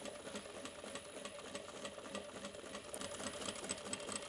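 A sewing machine top stitches along the edge of a crossbody bag at a long stitch length, a quiet, steady, rapid mechanical whirr that runs unbroken with no speech.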